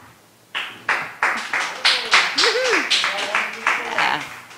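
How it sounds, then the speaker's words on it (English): Live studio crowd at a cafe-style TV show cheering and clapping, steady rhythmic bursts of applause building from near silence, with a voice singing or calling over the noise. "And the crowd goes wild."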